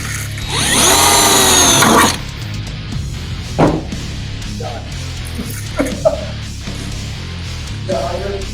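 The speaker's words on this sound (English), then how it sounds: "drilled a hole" A power drill bores a hole, a loud, close whirring whine lasting about two seconds that then cuts off, followed by scattered knocks and faint clicks in a quiet room.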